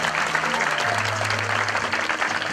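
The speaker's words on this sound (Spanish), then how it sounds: "recibimos un fuerte aplauso" Loud applause from a gathered crowd, continuous clapping with a low hum beneath it.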